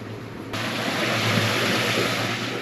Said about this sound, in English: Little motion sensor action water here, girls.